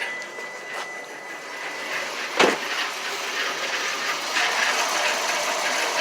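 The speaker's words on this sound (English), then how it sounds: "That's a bad wheel bearing. It sounds horrible." Failing front wheel bearing on a 2006 Toyota Prius driving in EV mode on battery, a steady grinding hum and whir that holds throughout with a short thump near the middle, no engine noise.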